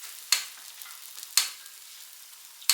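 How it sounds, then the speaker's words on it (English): Steady sizzling hiss from stromboli frying in a pan, with a few sharp clicks or taps of a utensil spaced about a second apart. "It is sizzling over here."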